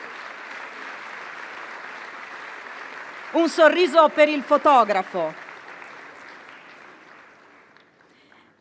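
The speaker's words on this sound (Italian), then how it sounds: "A lei il premio e l'applauso del pubblico." Audience applause at an economy and development award ceremony, steady clapping under a voice that speaks briefly mid-clip, fading away toward the end.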